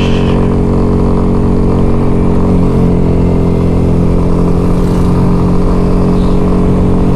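Steady loud drone of a vehicle with a noisy muffler crossing an old bridge on the road to Marawi City, a constant engine roar throughout with no let-up.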